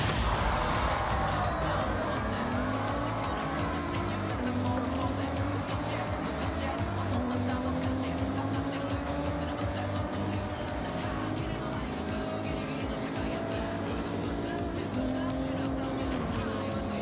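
Racing cars in a Forza game, including De Tomaso Panteras, roar in a continuous engine drone with rising and falling gear-shift whines, steady and loud throughout.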